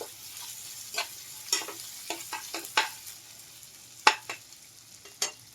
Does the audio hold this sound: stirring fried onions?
yes